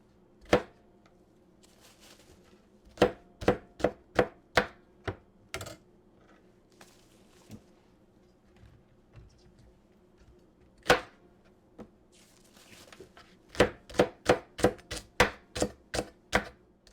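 A knife chops okra on a cutting board in crisp, close, sharp taps, arriving in quick bursts of several strokes separated by pauses, with a faint background hum.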